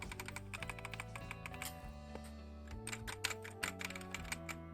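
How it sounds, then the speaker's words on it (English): Keys clack on an AJAZZ AK820 wired mechanical keyboard, a quick irregular run of close, crisp keystrokes over soft background music, with no talk. "Typing on this keyboard is very comfortable."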